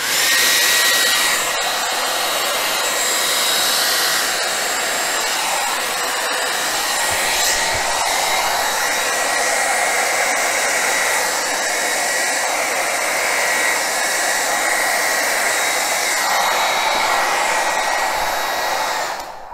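A hair dryer blows air across an acrylic paint pour in orange, copper and rose on canvas, making a loud, steady whooshing roar that runs unbroken for the whole stretch with no talking.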